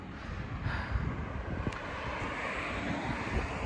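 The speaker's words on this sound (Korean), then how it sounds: "오늘 바람도 많이 불고" Strong wind buffets the microphone on a bridge at the edge of Da Nang in the evening, a steady, rumbling roar that stays loud and continuous throughout with no talking.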